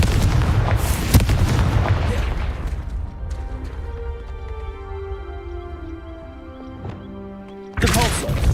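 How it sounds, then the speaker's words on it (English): A Confringo fire spell explodes in Hogwarts Legacy with loud booming bursts early on. A long ringing, shimmering tail follows, and another blast hits near the end. "Confringo."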